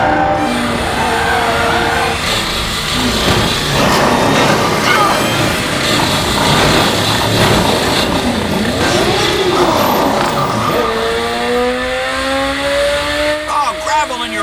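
A three-wheeled car is driven hard on a loose surface, its engine revving and rising and falling in pitch with tire scrub and grit spraying, loud and close throughout with voices over it.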